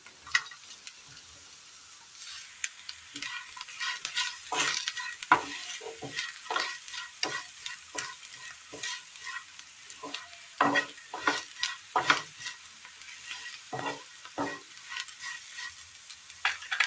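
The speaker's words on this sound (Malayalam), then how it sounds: "ഇതിലേക്ക് ടോസ്റ്റ് ചെയ്ത് വെച്ചിരിക്കുന്ന ഉരുളക്കിഴങ്ങ് കൂടി ഇട്ട് കൊടുക്കാം" Toasted potatoes go into a frying Kerala curry and get stirred, bringing repeated scraping and clattering stirs against the pan over a soft, steady sizzle, close and busy throughout.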